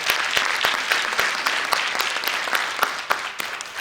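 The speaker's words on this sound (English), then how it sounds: "So let's give everybody a round of applause." An audience at a live community stage show in Charlotte breaks into steady applause, dense clapping with sharp individual claps standing out, continuous and fairly close.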